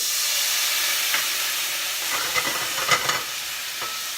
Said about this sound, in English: I'm going to deglaze the pan with a little bit